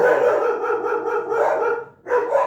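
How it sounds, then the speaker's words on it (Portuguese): Dogs bark in a sustained, fairly loud run of overlapping calls, dropping off briefly before another burst near the end. "Desculpem, os cães ladram."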